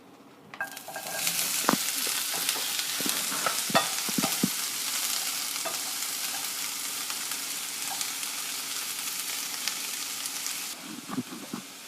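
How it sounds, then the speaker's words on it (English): Onions and garlic hit hot oil in a skillet over medium heat and burst into a loud, sustained sizzle. Scattered clicks and scrapes of stirring run through it until the hiss stops abruptly near the end. "Fry until the onions are tender"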